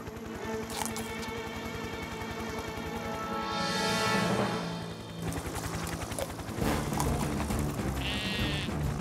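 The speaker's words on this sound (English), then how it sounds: "What are you doing, little sheep?" A sheep in a cartoon rescue scene bleats several times, clear wavering cries near and fairly loud over a mechanical ratcheting and background music-like tones.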